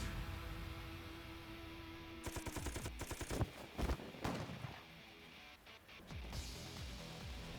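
Gunfire from the video game AI: The Somnium Files, with rapid bursts of close, loud shots clustered in the middle over steady game background sound, then a few scattered cracks near the end.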